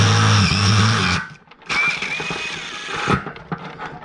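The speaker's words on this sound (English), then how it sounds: "So we're going to drill the hole right there." A power drill bores a hole in a satellite dish, whining loudly for about a second, cutting out briefly, then running again in a rougher burst that tapers off.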